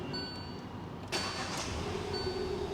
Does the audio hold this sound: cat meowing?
no